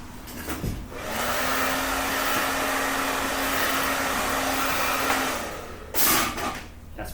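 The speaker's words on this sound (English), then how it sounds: "So she's got a Canadian hair dryer." A Canadian hair dryer blows in a haircut setting with a steady, loud whooshing roar and a low hum, running for several seconds before cutting off briefly and starting again.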